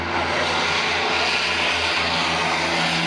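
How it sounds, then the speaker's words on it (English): A de Havilland Mosquito with twin Merlin engines makes a low-level pass at an airshow, its loud, steady propeller roar filling the air throughout. "First cross, lovely camera opportunity. Left to right, folks, low level Mosquito."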